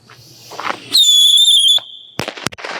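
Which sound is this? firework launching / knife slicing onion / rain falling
firework launching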